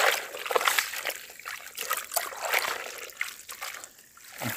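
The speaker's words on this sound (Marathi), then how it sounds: "ते आपण एकदा पाण्यात धुवून घेतलं चांगलं" Jackfruit is washed in water outdoors beside a wood-fired village stove, with irregular close splashes, trickles and sloshing strokes rising and falling in quick bursts.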